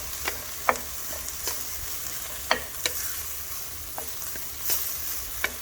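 Asparagus being stirred in a frying pan, a soft low sizzle punctuated by scattered utensil taps and scrapes, close but fairly quiet, with no speech.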